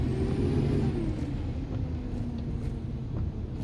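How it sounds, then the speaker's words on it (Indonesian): A yellow city bus passes on a busy Malaysian road in late-afternoon traffic, a close diesel rumble with a drawn-out hiss of air brakes and steady street noise, without talk. "Inilah bus Malaysia yang bagus."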